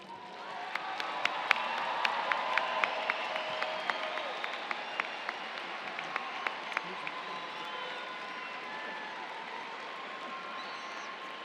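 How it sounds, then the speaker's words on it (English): An audience at an evening university commencement applauds the graduates, a broad steady wave of clapping with sharp individual claps standing out, swelling early and then slowly fading. "Please join me in another round of applause for all of our graduates."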